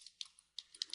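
A handful of soft, sharp keyboard key presses in a quiet room, about six faint clicks in one second with no voices.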